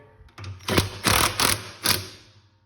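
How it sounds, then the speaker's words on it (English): A power drill with a 1/2 inch socket drives bolts during a Whirlpool washer transmission change. It makes four short, loud, close mechanical bursts in quick succession, then falls quiet. "I've got a drill that I'm gonna use on these bolts"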